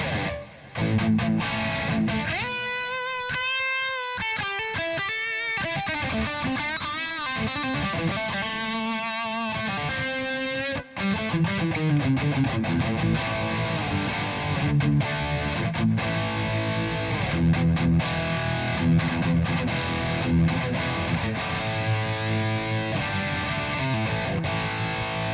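Electric guitar on a Kiesel Delos fitted with a Gotoh tremolo, played steadily through delay and reverb with some distortion, sustained chords and echoing notes filling the whole stretch, loud and continuous without talking.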